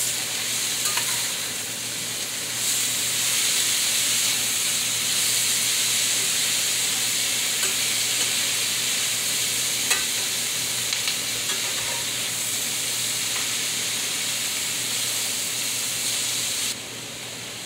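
Vegetables seasoned with Italian seasoning sizzle steadily in a pan while being stirred, a dense, even hiss with faint scraping taps throughout, close by and without talk, easing slightly at the very end.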